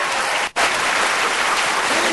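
Studio audience applause for a singer on a Mexican TV game show, dense loud clapping filling about two seconds with one brief dip near the start.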